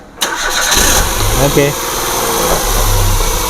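A car engine cranks and catches abruptly, then settles into a steady, loud idle with a constant hum and a brief rev; someone says a short word during it. The car has about 200,000 km on it.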